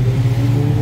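A motorbike engine passing on a busy seaside road, a steady loud low rumble filling the whole short moment with no talk over it.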